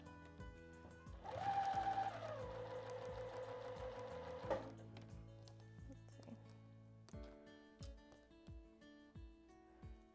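A sewing machine stitches down quilt fabric, a close, steady mechanical whir that speeds up and runs for a few seconds, then slows and stops, followed by scattered clicks and taps.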